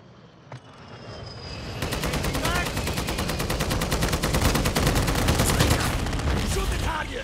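Rapid automatic gunfire erupts during a Ground War match in a shooting video game, loud sustained bursts of rattling shots that build after a quiet start, with a voice speaking under the clatter.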